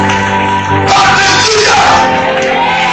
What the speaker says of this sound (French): Est-ce que quelqu'un peut se lever à acclamer le roi des rois, le Seigneur des seigneurs, le Dieu tout-puissant?